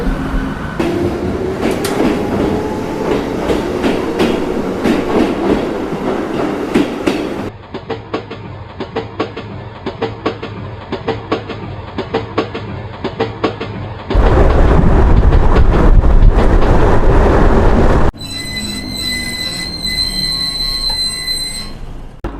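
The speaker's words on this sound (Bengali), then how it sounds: "আসানসোল জংশনে পাঁচ নম্বর প্ল্যাটফর্ম থেকে কিন্তু আমাদের ট্রেন ছেড়ে দিল" A local train pulls out of platform five at Asansol Junction at night in heavy rain, its loud rumbling and rattling wheels shifting abruptly in tone and level across several stretches.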